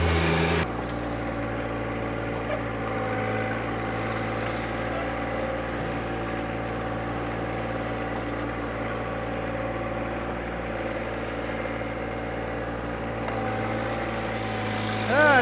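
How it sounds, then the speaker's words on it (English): A hydraulic tractor loader's engine runs steadily at high revs while the operator fills in a hole, a loud, constant drone lasting throughout with no talk. "Okay, let's put the loader on, and I'll finish filling it in with the loader."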